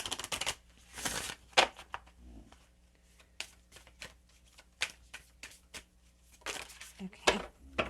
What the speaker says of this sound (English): So I'm going to pull on some Work Your Light cards here to see if anything wants to come out.